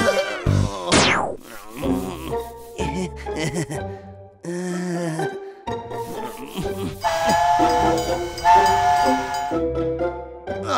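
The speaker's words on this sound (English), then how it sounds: "I want to ride the train too." A cartoon steam train chugs along in a children's animated song, with a sharp rising whistle blast near the start followed by hissing, rhythmic rail clatter and bright tonal toots that keep going throughout.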